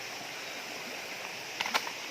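A stream flows beside the road to Tinakayanan Falls in Labrador, a steady soft rushing wash with a couple of faint clicks near the end.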